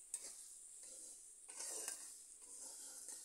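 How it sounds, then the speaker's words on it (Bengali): Spices and potatoes for a vegetarian potol-alur torkari fry in a pan while the water dries off, with soft sizzling and a few scraping stirs, faint and close, without talk. "মশলা এমনভাবে আমি ভেজে নেব যে জল দিয়েছি এই জলগুলো শুকিয়ে নেব।"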